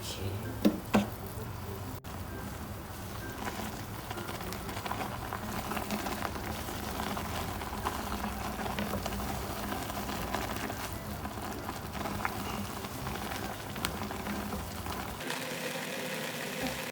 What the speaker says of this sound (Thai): น้ำเดือดแล้ว ลงไปเลย